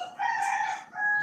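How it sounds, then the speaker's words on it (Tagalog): A rooster crows close by in one loud, drawn-out call with a brief break before a final rising note, heard alone without talk. "Kasi may manok pa."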